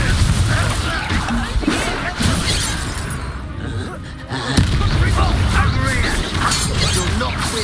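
A Confringo fire spell explodes in Hogwarts Legacy amid combat, loud bursts and shattering blasts layered with battle noise while characters shout over it.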